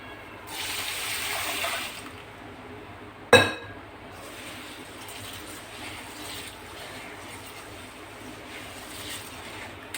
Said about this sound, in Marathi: तर चला डाळ धुवून घेते